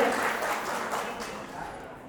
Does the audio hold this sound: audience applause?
yes